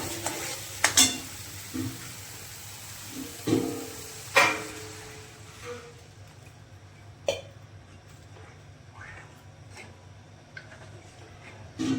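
Water added to sizzling masala for colocasia leaf curry, then stirred, giving a steady low frying hiss broken by sharp clacks and scrapes of a spoon against the pan.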